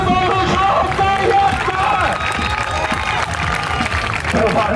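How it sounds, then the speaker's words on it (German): A street juggling show audience in Mauerpark, Berlin, breaks into loud, sustained applause, dense and close, with cheering and crowd chatter mixed in throughout. "Everybody clapping."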